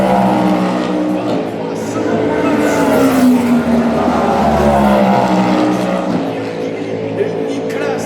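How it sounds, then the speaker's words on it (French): Ferrari race cars roaring past during Le Mans 24 Hours qualifying, a loud sustained engine drone with rising and falling pitch as they pass, under continuous excited race commentary. "Le Ferrari qui passe devant"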